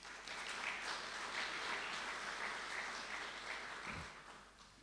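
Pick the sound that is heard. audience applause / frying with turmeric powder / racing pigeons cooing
audience applause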